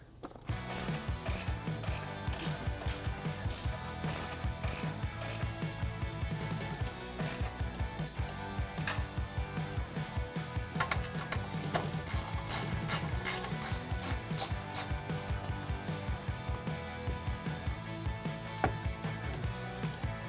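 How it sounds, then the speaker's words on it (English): Hand ratchet tightening bolts during a Bilstein B8 5100 adjustable leveling shock kit install on a 2016-2020 Toyota Tacoma: rapid, continuous metallic clicking of the pawl in steady bursts, close and fairly loud, with no talking. "I typically get it most of the way there just with a ratchet"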